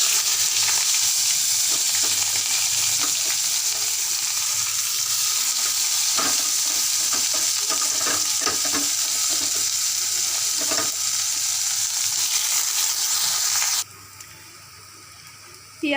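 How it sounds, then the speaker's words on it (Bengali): Chopped onions frying in a kadai on a gas stove while being stirred, a loud continuous close sizzle with scraping strokes throughout that drops away abruptly near the end. "পেঁয়াজটা লাল করে ভাজা হয়ে গেছে"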